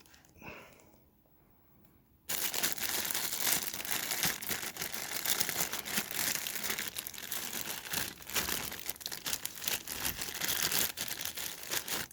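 An Omron upper-arm blood pressure monitor is pulled from its packaging, with loud, continuous crinkling and rustling of plastic and cardboard after a brief quiet start.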